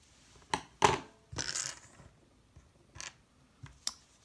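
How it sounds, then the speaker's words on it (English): Small scissors snip off a crochet yarn tail with a few sharp, close clicks and one slightly longer cut, separated by brief quiet gaps and with no talking. "I'm just going to snip that off"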